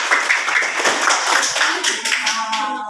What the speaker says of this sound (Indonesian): tepuk tangan untuk kelompok Timun Mas